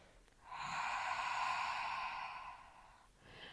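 Ujjayi pranayama breath drawn through a constricted throat, a single long hissing, oceanic inhale lasting about two seconds, close and soft, followed by a faint start of another.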